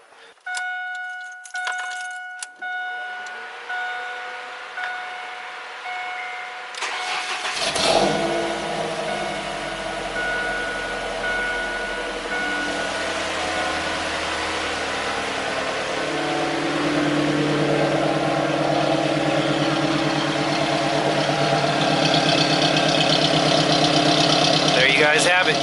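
A 2001 Ford Focus ZX3 with a full aftermarket exhaust from the headers back and a cat delete is started: keys jingle and a few ticking clicks, then the engine cranks, catches and settles into a loud, rumbling idle that swells steadily.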